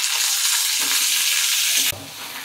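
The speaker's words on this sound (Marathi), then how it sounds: "झाकण न ठेवताच या भेंडीला आपण छान फ्राय करून घेणार आहोत" Okra (ladyfinger) frying uncovered in a little oil in a pan gives a steady, loud broadband sizzle, with a few soft stirring scrapes; the hiss drops abruptly near the end.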